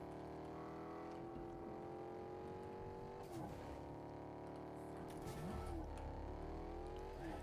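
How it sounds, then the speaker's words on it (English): Nitro Drifter car driving in the Fortnite video game, a steady engine drone with shifting revs and brief tire-scrub bursts, loud and continuous with no talk. "I do think the best tactic for this car is to just do donuts in a field"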